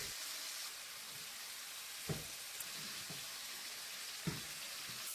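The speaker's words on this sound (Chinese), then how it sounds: "将腌好的鸡翅下入锅中，中小火慢煎" Marinated chicken wings pan-frying over medium-low heat in a wok, giving a steady, even hiss with a few soft knocks from the pan being moved.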